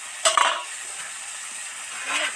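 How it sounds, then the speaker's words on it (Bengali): Potatoes stirring and frying in oil in a pan, close metallic spatula scrapes at the start and a steady sizzling hiss underneath, with another stir near the end. "ভালো করে নেড়ে চেড়ে একদম লাল লাল করে আলুটা ভাজতে থাকবো"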